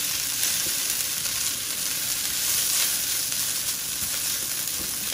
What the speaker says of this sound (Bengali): লবণটা পরিমাণ মতো দিয়ে চিড়াটাকে ভালো করে ভেজে নিব আমি।